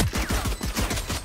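Rapid automatic gunfire in the Valorant shooter game, a steady burst of about ten evenly spaced shots filling the short clip at close range, with no talk over it.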